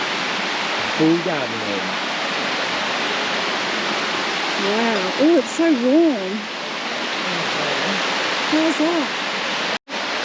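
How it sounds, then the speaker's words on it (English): A waterfall in the Kimberley roars as a constant broadband rush, with people exclaiming and talking over it. "Beautiful waterfall to ourselves."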